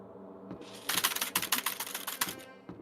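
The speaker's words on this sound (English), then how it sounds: "Okay, nice keyboard noises." Loud computer keyboard typing heard while a Danganronpa game plays, a fast run of sharp, close clacks lasting a couple of seconds over a quiet background, with no talking.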